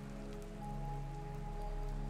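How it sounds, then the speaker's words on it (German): Rain falls gently onto wet cobblestones in an old city street, a steady, even patter close by with a faint low hum beneath, continuous and without voices. "Der Regen fällt sanft vom Himmel auf die Pflastersteine"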